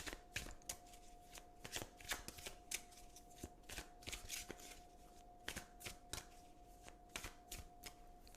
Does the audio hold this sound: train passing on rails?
no